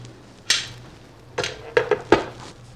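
A metal canning pot used for salsa is opened in a kitchen. It gives a few sharp metallic clanks and scrapes at close range, spaced over a couple of seconds.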